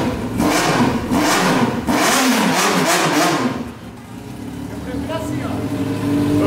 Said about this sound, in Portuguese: tem que esquentar os motores